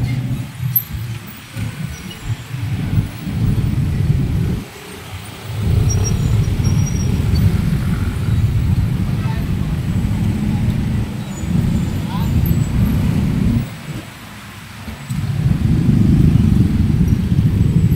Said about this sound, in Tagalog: Sabado at Linggo sobrang traffic dito.